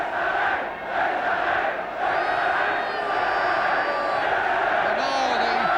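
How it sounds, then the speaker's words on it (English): Welsh football crowd roaring and chanting at the Racecourse Ground during a 1976 Wales v Austria qualifier, a loud sustained wall of massed voices swelling in waves, with brief dips near the start. "And now the Racecourse crowd letting their team know that they are here."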